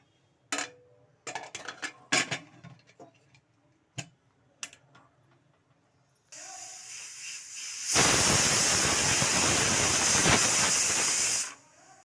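A pressure cooker cooking black-eyed peas clicks and clatters faintly at first, then releases a loud, sustained hiss of steam that builds and holds for several seconds before cutting off.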